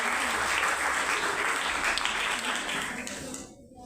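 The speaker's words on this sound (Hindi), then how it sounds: "जोरदार तालियों से स्वागत करिए।" Audience at a Republic Day celebration applauding an NCC cadet, a dense, steady wash of many hands clapping that holds loud, then thins and cuts off abruptly near the end.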